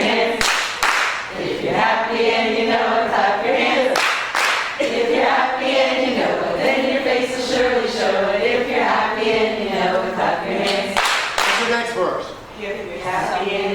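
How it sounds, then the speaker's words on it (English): Preschool children clapping their hands along to a sung nursery song, with bursts of scattered claps between stretches of singing voices. "If you're happy and you know it, clap your hands."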